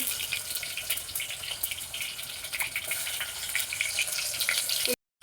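Mustard seeds hit hot oil and give a bright, crackling sizzle with rapid tiny pops throughout, close and fairly steady, before cutting to silence at the end.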